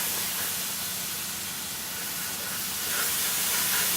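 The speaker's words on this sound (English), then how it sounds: "Steam that cheese up a little bit." Cheese steams on a hot griddle in an Irish pub kitchen, giving a steady, close broadband hiss that swells slightly toward the end, with no talking.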